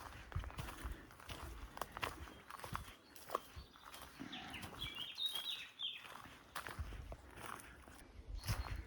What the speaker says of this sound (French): Oh, on entend les oiseaux.